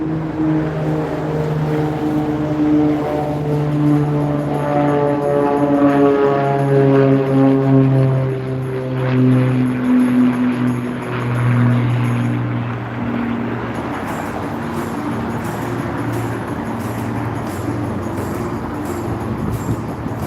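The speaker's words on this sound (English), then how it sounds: "There's one last pass by the Northern Stars Aero Team." Aerobatic team of Pitts Special biplanes making a final pass at an airshow practice day, propeller engines droning loudly and shifting in pitch with Doppler sweep as the formation flies by, then fading.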